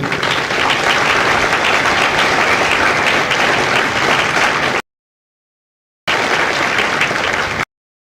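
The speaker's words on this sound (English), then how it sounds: "Please join me in a round of applause for the families of Kilo Company." Crowd at a Marine Corps Recruit Depot San Diego graduation ceremony applauding the families of Kilo Company, a loud sustained burst of clapping that cuts off, then resumes briefly before stopping again.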